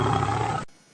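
A lion gives a single loud, close roar that fills the first two-thirds of the clip, then cuts off abruptly into near silence.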